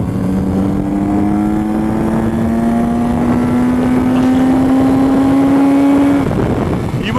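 A Kawasaki Z900RS motorcycle cruising in fourth gear at about 50 mph, its engine a steady droning hum beneath heavy rushing wind noise, with the pitch easing upward slightly before settling.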